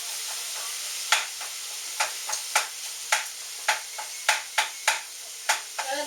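Food sautés in a pan for a lazy lasagna, a soft steady sizzle broken by about a dozen crisp scraping stirs at an uneven rhythm, close and clear with no talk.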